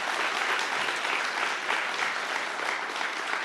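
Steady applause from an audience at the ribbon cutting ceremony for the Southeastern Performing Arts Center, dense and even throughout with no voices.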